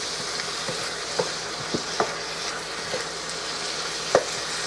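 Chicken stir fry with garlic and soy sauce sizzling hard on high heat, a steady broadband hiss with a few sharp clicks and knocks from the pan, no voices.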